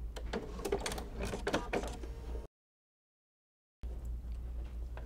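A sewing machine stitches quilt binding in a rapid, rattling run that stops abruptly into silence, then resumes with quieter mechanical handling, close by.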